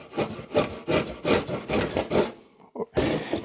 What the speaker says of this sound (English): Let's see if the planer does anything on these edges.